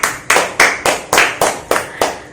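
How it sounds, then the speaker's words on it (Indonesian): Eight sharp hand claps in a steady, even rhythm from a classroom applauding a student group, close and loud with no talking. "Beri aplaus untuk kelompok 1"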